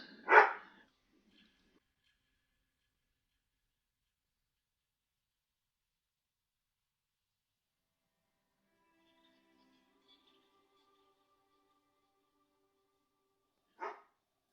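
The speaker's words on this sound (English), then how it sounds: "My dog is barking." A pet dog gives a single loud bark at the start and another short bark near the end, with near silence between them.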